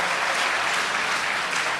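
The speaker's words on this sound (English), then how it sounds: "give a round of applause to Governor Babatunde" A short burst of dense applause from an audience at a Technology Day 2011 event, steady and evenly sustained clapping for a governor.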